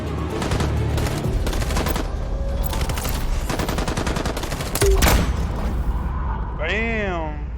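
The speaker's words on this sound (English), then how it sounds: "Oh, rocket launcher." Rapid bursts of weapon fire in Detroit: Become Human, a loud fusillade with heavy booms that fills most of the clip, then a sweeping whine near the end; a voice speaks over the barrage.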